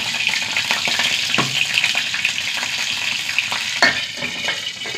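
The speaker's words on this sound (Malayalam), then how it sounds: "കടുക് പൊട്ടിത്തെറിക്കൂ." Mustard seeds splutter and pop in hot coconut oil for a tempering, a close, steady crackling sizzle with sharper bursts and stirring sounds throughout.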